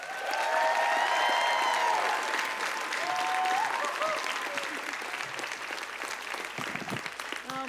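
An awards-ceremony audience claps steadily for several seconds, with a few whoops and whistles early on, the clapping slowly thinning toward the end.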